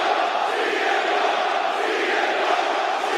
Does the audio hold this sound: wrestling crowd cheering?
yes